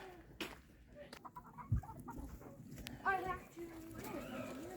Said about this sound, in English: We still got lots of chickens running around in here.